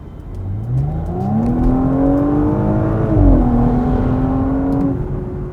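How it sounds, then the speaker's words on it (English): A 2021 Audi S5's V6 engine revs up with a rising, throaty tone, holds high, dips briefly and climbs again before easing off, loud and close. "the sweet, sweet sound of a finely tuned and racy V6 motor"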